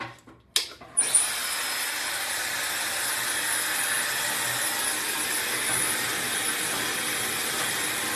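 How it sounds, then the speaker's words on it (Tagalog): After a couple of brief handling knocks, a hair dryer switches on and blows steadily at home, a loud, close, continuous airy whoosh that holds without letup to the end. "Dryer ko naman."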